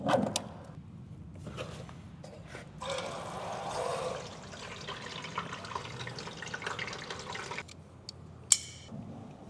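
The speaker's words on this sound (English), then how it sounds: "I'm going to fill up their water tank" Water rushing from a pump into a street sweeper's big water tank, a broad hiss that swells and fades with clanks and one sharp knock near the end.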